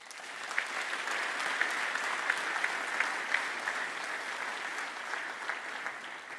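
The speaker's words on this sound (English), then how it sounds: "just one more round of applause for everybody" Steady applause from a large concert audience, dense clapping sustained throughout with no talking.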